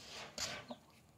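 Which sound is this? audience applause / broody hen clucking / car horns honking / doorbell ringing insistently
broody hen clucking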